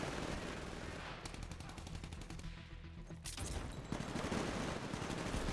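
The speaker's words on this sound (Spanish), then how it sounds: "¿Quién me está disparando ya?" Rapid automatic gunfire from a Titanfall match, dense bursts of rattling shots running almost continuously at close range, with a brief lull in the middle before heavy fire resumes.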